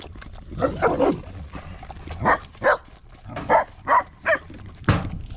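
A puppy barks in a string of short, close yips and woofs with small gaps between them, under light background noise.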